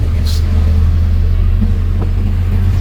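Steady low rumble of road traffic in a hot, congested city street, continuous engine drone close by with a brief higher squeal near the start and faint background voices.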